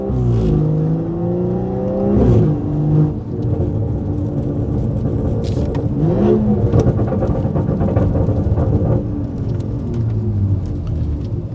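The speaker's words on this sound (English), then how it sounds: "we're gonna test out the hard exhaust burbles" A BMW engine drones loudly and continuously, with shifting pitch and scattered sharp crackles and pops of exhaust burbles, recorded from inside or close by.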